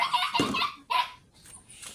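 A dog barks sharply two or three times in quick succession, close and fairly loud, with a brief yelp at the end.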